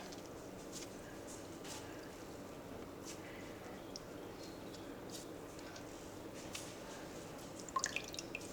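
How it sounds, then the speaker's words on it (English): Buttermilk drips faintly from butter solids squeezed in cheesecloth over a bowl, a sparse, irregular patter of small drops in a quiet room. "I'm going to squeeze any excess liquids out of the solids."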